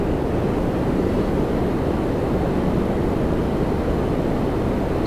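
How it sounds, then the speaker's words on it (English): An Alaska Airlines Boeing 737 MAX 9 jet on final approach makes a steady, broad, loud roar that holds evenly throughout, with no other sounds. "about to turn final, a MAX 9 Alaska Airlines from Seattle"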